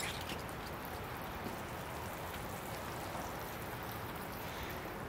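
Steady rain falls outdoors during bonsai seedling potting in November, a dense, even hiss of drops on surfaces that holds constant and fairly near throughout, with no voices.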